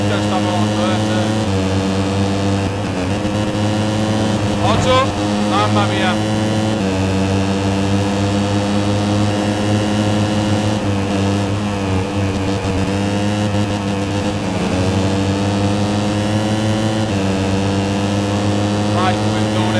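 A Moto3 motorcycle in the MotoGP 13 racing game drones steadily with a buzzy, scooter-like engine note that rises and falls slightly through gear changes, running continuously beneath a voice talking over it.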